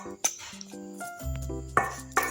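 A spoon stirs half a spoonful of baking powder into batter in a bowl, making a few sharp metallic clinks and scrapes against the bowl over about two seconds, close and clear with no talking.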